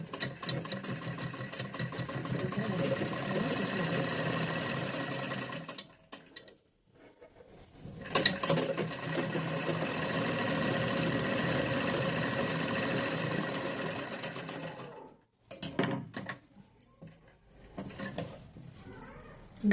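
Sewing machine stitching a double-folded hem on a patiala pant, running in steady continuous bursts close by, with two short pauses where the motor stops.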